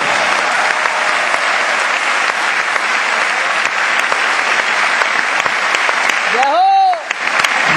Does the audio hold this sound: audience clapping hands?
yes